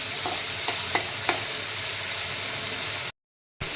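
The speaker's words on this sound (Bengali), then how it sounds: "এবার অর্ধেক টমেটো দিয়ে দেব, দিয়ে আরেকটু কষিয়ে নেব" Spice paste with tomato fries in a pan for a magur catfish curry, giving a steady, close hiss broken by a few light scrapes of stirring, then a brief drop to silence near the end.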